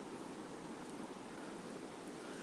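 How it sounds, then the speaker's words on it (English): A soft, steady wash of the Tagus River flowing in Toledo, Spain, faint and distant, with an even hiss and no other sounds. "And the sound of the running water."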